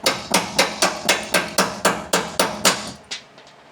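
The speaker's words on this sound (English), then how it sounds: "Using our metric crescent wrench as a hammer." A metric crescent wrench is used as a hammer on a Ford F-150's suspension during a lowering kit install, striking about ten sharp, evenly spaced metallic blows that fade at the end.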